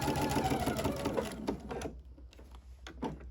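A sewing machine runs a fast continuous stitching burst on a Christmas project, loud and steady for about two seconds before stopping, then a few quieter separate stitches and handling clicks follow.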